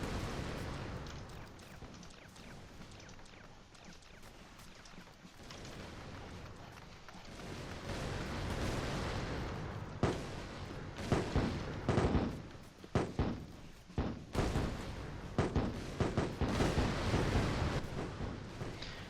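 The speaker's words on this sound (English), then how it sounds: "Hopefully our mortars there can get those defenses down before they take them down." Mortar fire in the video game Attack on Toys: a series of sharp, fairly loud booming shots and blasts clustering in the second half over a continuous game-noise bed.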